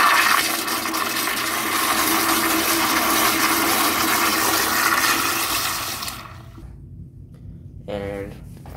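A toilet flushes with a loud, rushing roar of water that holds steady for about six seconds, then drains away to a low trickle and a brief gurgle.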